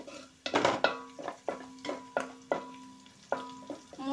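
Ginger being fried in a pan on low flame for chicken egg fried rice, a soft sizzle under repeated rhythmic scraping stirs and clinks of a utensil against the pan, close, about eight strokes, no talk.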